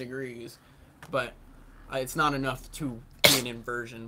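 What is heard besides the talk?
sneeze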